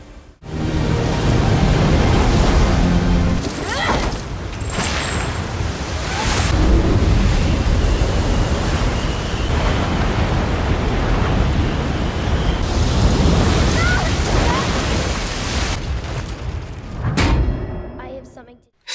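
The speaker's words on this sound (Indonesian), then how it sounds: "Dengan sekuat tenaga, Jessica mencoba mempertahankan perahunya dari guncangan ombak dan angin yang sangat besar." Loud, roaring wind and crashing storm waves at sea dominate throughout, a dense, continuous rush that surges and eases before cutting off abruptly.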